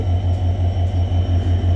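Locomotive of the Benapole Express standing at Jessore Junction, its engine giving a loud, steady low drone with an even rhythmic throb throughout and no talk.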